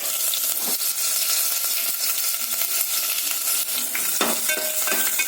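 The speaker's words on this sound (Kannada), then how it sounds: "ಹಸಿಮೆಣಸು, ಮೆಣಸಿನಕಾಯಿ, ಈರುಳ್ಳಿ, ಕರಿಬೇವಿನ ಸೊಪ್ಪು ಇಷ್ಟನ್ನ ಹಾಕಿ ಸ್ವಲ್ಪ ಫ್ರೈ ಮಾಡ್ಕೊಳ್ಳಿ." Green chillies, dried chillies, onion and curry leaves with a few fenugreek seeds sizzle in hot oil, a loud, steady crackle broken by occasional metallic scrapes and taps of a stirring spoon in the pan.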